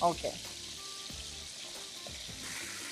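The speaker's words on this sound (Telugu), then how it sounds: "సో ఈ వెల్లుల్లి పేస్ట్ నేను వేస్తున్నాను" Garlic paste sizzles in a hot pan with chicken pieces, a steady bright frying hiss with a few clinks and stirring knocks near the start.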